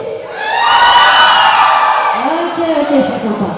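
A cosplay contest audience at PerigeekAsia shouts, whoops and cheers loudly in a sustained wave, with yells and children's voices rising over the crowd and a host's voice briefly heard underneath.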